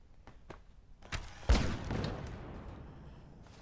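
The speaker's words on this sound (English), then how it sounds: "Several explosions there." A burst of sharp explosive booms and cracks in quick succession in the video game Fallout: London, the loudest midway through, followed by a rumbling tail.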